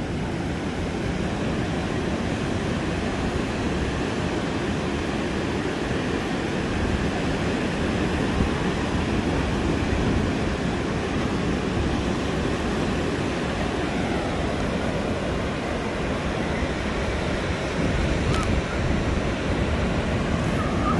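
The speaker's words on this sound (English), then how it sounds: "This is Imperial Beach." Surf rolling in steadily at Imperial Beach, California, a continuous broad wash of breaking waves with wind buffeting the microphone, no distinct pauses between sets.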